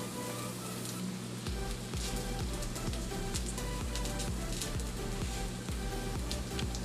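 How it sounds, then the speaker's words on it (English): Sausage sautéing in hot olive oil in a skillet gives a steady, close crackling sizzle with soft low thumps from handling the pan, and no one speaks. "you want to put a little bit of olive oil to saute the sausage in your pan"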